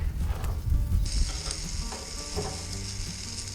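Garlic roasting and charring over heat at a spring bear hunting camp cookout, a steady close sizzle and crackle of frying that runs throughout without talk.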